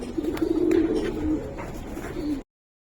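Giribaz pigeons coo in a steady, close, rolling murmur that swells early and then continues at an even level before cutting off abruptly.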